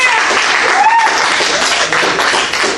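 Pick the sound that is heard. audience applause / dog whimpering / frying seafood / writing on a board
audience applause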